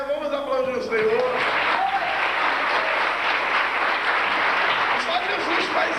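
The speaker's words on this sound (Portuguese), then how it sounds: "Vamos aplaudir o Senhor." Steady crowd applause fills a church, a dense wash of clapping running throughout, with a voice speaking briefly at the start.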